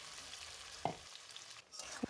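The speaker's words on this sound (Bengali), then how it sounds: "ওইটা ওই তেলে ছেড়ে দিয়ে ভালো করে হলুদ আর সামান্য নুন দিয়ে ভালো করে ভেজে নেব" Potatoes sizzle steadily in hot oil with turmeric and salt for a potato dum dish, a continuous frying hiss with a couple of brief spoon-stirring clinks.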